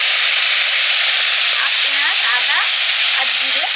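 Ground spice paste of onion, ginger, cumin and chilli with turmeric hitting hot oil in a pan, a loud, dense, continuous sizzle heard up close, with faint squeaky scrapes of stirring.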